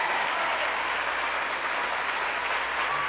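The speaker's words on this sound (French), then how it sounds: "Applaudissements." Studio audience on a French television variety show applauding, a dense, even wash of clapping that holds steady and loud throughout.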